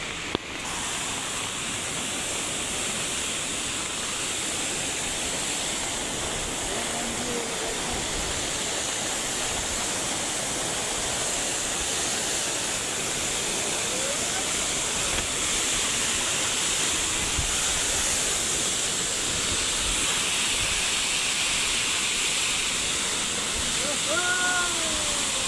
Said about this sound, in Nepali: रमाइलो ब्याङ्करको झरना, नाम पनि ब्याङ्कर, एकदम ब्याङ्कर छ है यो चाहिँ झरना चाहिँ,